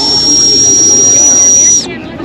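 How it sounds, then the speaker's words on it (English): A blown whistle gives a loud, steady high-pitched whistling hiss, like a turbo spooling, holding for almost two seconds, then cutting off abruptly. "When you blow it, it sounds like a turbo."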